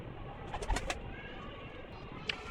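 Pet pigeons cooing nearby, a few soft throaty coos in a short burst, then a lone faint call after a pause, over low background noise.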